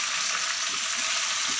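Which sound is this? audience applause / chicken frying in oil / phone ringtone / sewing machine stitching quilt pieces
chicken frying in oil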